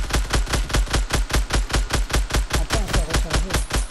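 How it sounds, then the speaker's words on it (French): Loud, evenly spaced launcher shots fired in quick succession in Fortnite, about four per second, each with a heavy low thump, the rhythm holding steady from start to finish with no talk over it. "Tire le lance-grenade."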